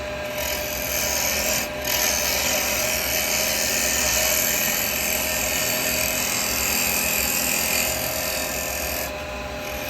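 Wood spins on a lathe while a carbide turning tool shaves it, making a continuous close, loud rasping cut that briefly dips twice and then carries on, with no voices.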